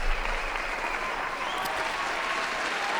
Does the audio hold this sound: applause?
yes